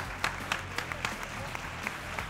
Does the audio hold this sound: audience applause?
yes